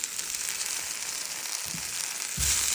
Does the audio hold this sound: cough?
no